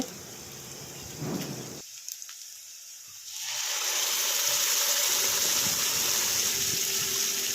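Spice paste of cumin, green chili, onion and garlic frying in a pan, a steady loud hiss and crackle that swells and holds for several seconds with no talking.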